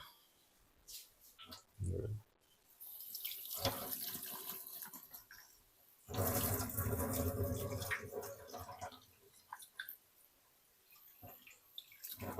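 A kitchen tap runs in steady gushing bursts as something is rinsed under it in a Kerala home kitchen, with clicks and clatter between the flows and faint voices in the background.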